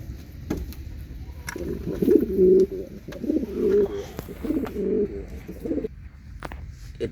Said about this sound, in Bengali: এটা হচ্ছে একটু বিদেশি বিদেশি কবুতর, বাইরের কান্ট্রির কবুতরগুলো এরকমই।